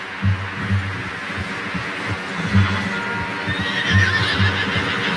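A horse whinnies several times in bursts in Red Dead Redemption 2, with thudding hoofbeats and ambient background noise, fairly close and loud.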